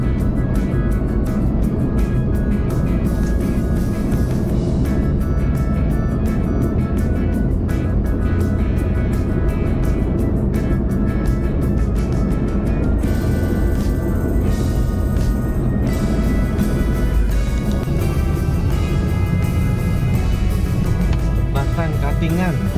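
A car cruising along the Trans Kalimantan road between Palangkaraya and Sampit in Kalimantan, its engine and road noise a steady, loud in-cabin drone that holds without a break.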